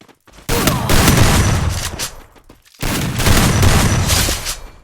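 Loud, dense bursts of gunfire in the Free Fire battle game, two sustained volleys separated by a brief pause, crackling and booming close up.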